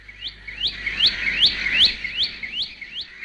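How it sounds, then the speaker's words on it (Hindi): A bulbul calls loudly and clearly, repeating a quick series of rising, whistled chirps in a steady rhythm, close by with no other sounds. "बुलबुल ऊंची आवाज में बोलती है।"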